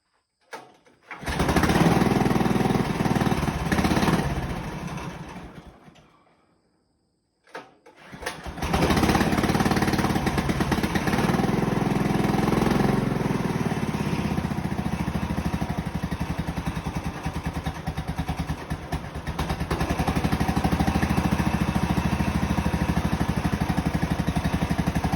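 A Farmall M tractor fitted with a Honda engine cranks and catches close by, runs roughly for a few seconds and dies. It then restarts and settles into a loud, steady, chugging run.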